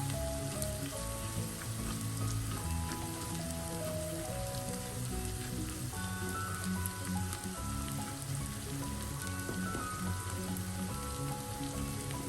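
Spices and pepper powder sizzle and crackle in hot oil in a pan for brinjal masala curry, a steady dense frying hiss close up with scattered pops and no talk.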